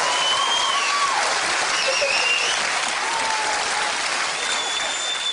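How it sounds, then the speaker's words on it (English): A studio audience claps and applauds at a comedy panel show, a dense, steady wash of clapping close and loud throughout, with faint shouts but no clear talk. "If you're dappy and you know it, clap your hands."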